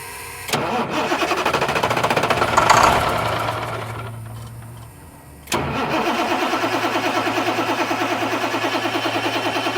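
A car engine cranks in two long rhythmic spells of chugging, the starter turning over with a brief flutter as if nearly catching, then a pause before cranking resumes, loud and close.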